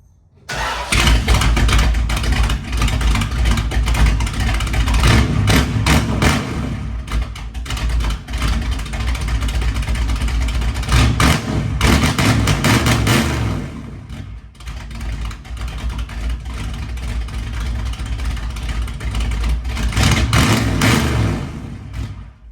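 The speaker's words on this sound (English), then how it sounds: "Now we got both mufflers off. Obviously, we're going to have to fire it up." A 1960 Ford Fairlane engine cranks and fires up, then runs loud and raw with both mufflers off, its harsh roar rising and dipping with revs for about twenty seconds.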